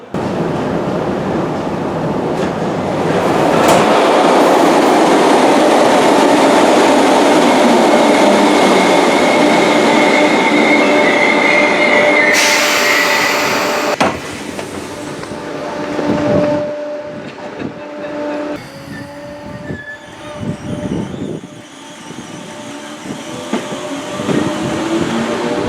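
A Merseyrail Class 777 electric multiple unit at a station platform, loud and close: a rising electric whine and rumble for several seconds, then a sharp drop as it settles, followed by lighter rattles and intermittent clunks.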